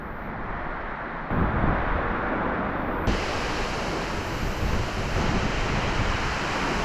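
Rushing water at a Springbrook waterfall gives a loud, steady, broadband roar that fills the whole clip and grows slightly louder partway through.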